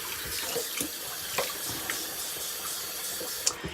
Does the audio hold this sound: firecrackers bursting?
no